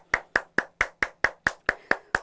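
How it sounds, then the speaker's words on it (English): A theatre class claps in a steady unison rhythm, about ten crisp, evenly spaced claps in quick succession, close and clear with no talking over them. "Clap for yourself."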